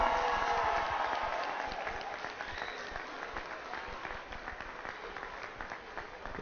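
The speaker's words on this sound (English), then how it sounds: "Big round of applause, everyone." A crowd at a community event for a new football field applauds the Aztec cheerleaders, steady clapping that starts strong and gradually thins, with some voices mixed in.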